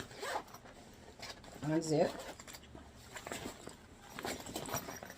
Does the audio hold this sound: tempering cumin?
no